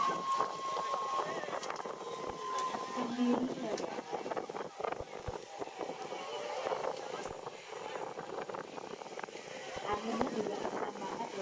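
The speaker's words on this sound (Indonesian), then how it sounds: "Anginnya juga kencang banget ya teman-teman." Strong wind at an outdoor kite festival rushes and buffets the microphone in a steady roar, heard beneath continuous talking.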